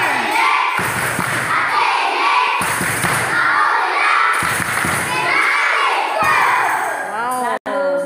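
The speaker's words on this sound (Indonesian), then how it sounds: "Tepuk terima kasih." At a church community gathering with a children's drama performance, a young crowd claps and cheers in loud repeated bursts separated by brief pauses, with children's shouting and voices mixed into the noise.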